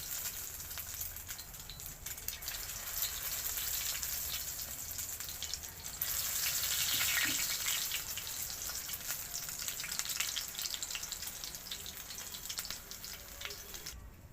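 Pieces of pointed gourd frying in hot oil in a heated pan over a lowered gas flame, a steady close sizzle that holds unbroken for the whole stretch and swells a little midway, with no talking.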